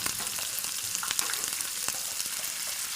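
Peanuts fry in hot oil for a South Indian tempering for bisi bele bath, giving a loud, close, unbroken sizzle with scattered sharp pops and occasional stirring scrapes, no speech.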